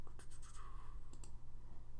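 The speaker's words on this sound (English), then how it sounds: "I can be heard typing apparently" Keys on a computer keyboard during a drawing stream, a few quick clicks and scratchy taps close to the microphone over a low steady hum, sparse and irregular.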